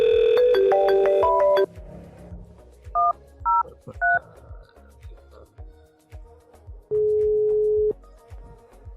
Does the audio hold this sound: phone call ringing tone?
yes